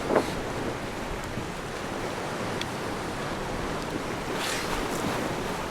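Ocean surf and wind wash over open sea, a steady rushing roar with gusty microphone buffeting and occasional brighter splashes, no voices.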